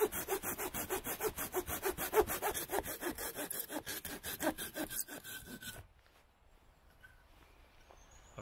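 A small folding saw cuts through dry wood outdoors with steady, rhythmic back-and-forth strokes, close and prominent for about six seconds, then stops, leaving quiet ambience with faint bird calls.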